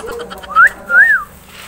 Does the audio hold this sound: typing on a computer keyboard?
no